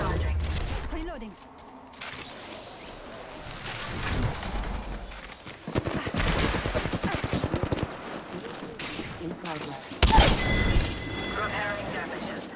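Bursts of gunfire in the video game Apex Legends, with sharp cracks and rapid machine-gun volleys starting and stopping irregularly, loud and close, mixed with in-game voice callouts and mechanical clanks.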